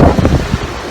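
Strong gusts buffet the microphone outdoors on a very windy day, producing loud low rumbling and thumping bursts that rise and fall in uneven waves with no voices present.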